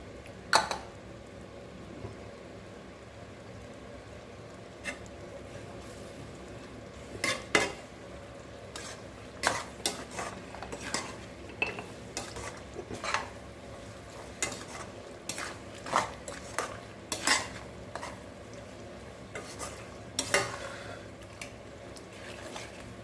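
Ginger and raw mango thokku is stirred in a pan with oil and salt, the spoon clinking and scraping against the metal in irregular bursts over a quiet background sizzle.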